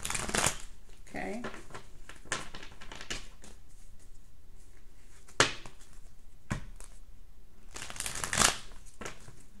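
Small tarot deck being shuffled by hand, a run of papery riffles and soft card taps with a few sharper snaps, close and fairly quiet, with no talking over it.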